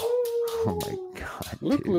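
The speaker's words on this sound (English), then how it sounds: "check out her adorable howl" A dog howls from a video playing on a TV, a long sustained wavering howl that breaks into short yips and whimpers, with people talking excitedly over it.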